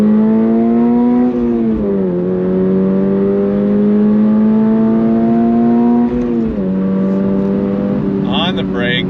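A 2024 Subaru BRZ tS accelerating hard in second gear, its engine note climbing steadily and loud close-up, with a brief drop in pitch at a shift-like dip before rising again.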